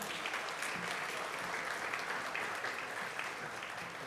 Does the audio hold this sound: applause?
yes